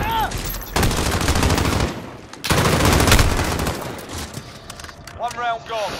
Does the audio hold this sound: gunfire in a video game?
yes